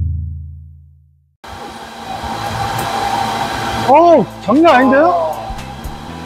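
Cryptocurrency mining rigs at a coin mining farm fill the room with a loud, steady whirring roar that starts abruptly after a moment of quiet and continues without a break, while a person talks over it.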